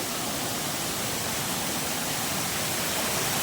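Waterfall at Dapoli, a broad, even roar of falling water that stays constant and dense from start to finish, close and loud with no voices.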